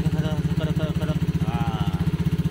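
Scooter running with its CVT cover opened: a rapid, even rattling knock pulsing close and loud under the engine, with a voice talking over it.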